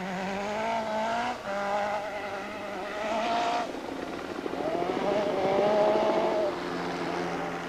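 Audi and Lancia rally cars on icy roads in the 1984 New Zealand rally: engines rev and shift through gears, rising and falling as they pass close by, with tyre noise and wheelspin on the slippery surface.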